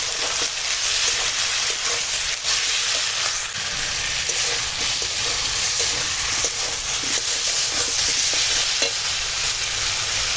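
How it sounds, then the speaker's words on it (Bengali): Kashmiri chili powder, hot chili powder, turmeric and salt are stir-fried in oil, giving a loud, continuous hissing sizzle with faint spatula scrapes scattered through it. "এখন দিয়ে দেব কাশ্মীরি লঙ্কার গুঁড়ো ঝাল লঙ্কার গুঁড়ো হলুদের গুঁড়ো আর দেবো স্বাদ মতো লবণ দিয়ে এখন কষাবো"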